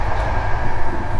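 Inside a passenger train carriage hauled by an EP09 locomotive on the IC Parsęta service, a loud, steady rolling rumble with continuous broadband rail noise and no break.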